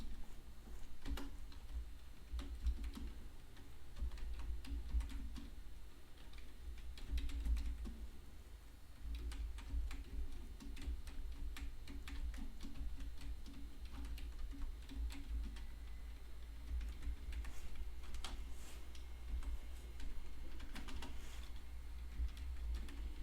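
Close, steady typing on a computer keyboard, with continuous soft key clicks sustained throughout and a low hum underneath.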